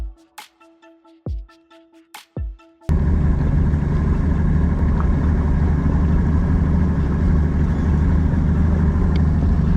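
A boat motor idles on a shallow lake, a steady low rumbling drone that starts abruptly after a few seconds of separate knocks and clunks, then holds loud and close without a break.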